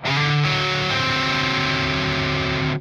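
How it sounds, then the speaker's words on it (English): A single heavily distorted electric guitar dominant seventh chord rings out loud and sustained for a few seconds with a dense, gritty tone. "It's really just a dominant seventh chord."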